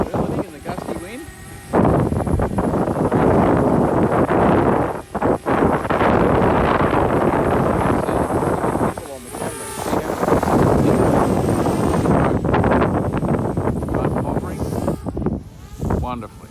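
Gusty high wind blows outdoors where DJI Spark and Mavic drones fly, a loud continuous roar of wind buffeting the microphone that surges and briefly drops, with a person talking over it.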